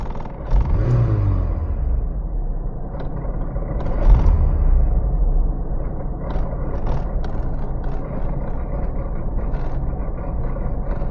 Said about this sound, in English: I'm just going to feather the throttle here to warm it a bit.